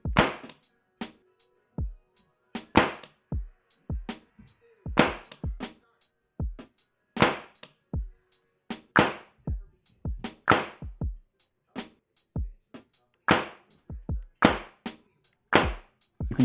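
Rapid, irregular sharp pops from an EMF100 paintball marker fitted with a Deadlywind valve, fired in quick bursts and single shots over many seconds, close and loud with brief silences between.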